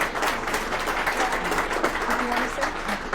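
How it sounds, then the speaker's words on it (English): Audience applause at a PPC political event, a steady wash of clapping lasting throughout, with some voices mixed in over the crowd. "And please, a big round of applause again for my incredible PPC team."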